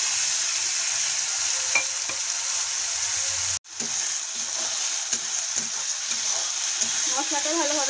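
Onion, garlic, ginger and green chilli paste frying in oil with bay leaf, cinnamon, cardamom and cumin for egg korma, a dense, continuous close sizzle with a brief cutoff midway and faint stirring scrapes.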